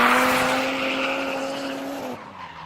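At a grassroots drift competition qualifying round, a drift car stays on the throttle through a transition, its tires squealing in a loud, sustained pitched wail over engine roar until the squeal cuts off abruptly.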